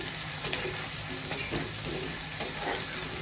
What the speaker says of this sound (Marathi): कांदा छान परतून घ्यायचा तेलामध्ये